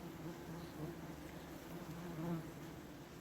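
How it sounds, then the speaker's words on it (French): Wasps buzzing around their nest inside a concrete manhole, a steady, fairly faint droning hum of many insects with no talk. "donc ça c'est un joli nid de guêpes"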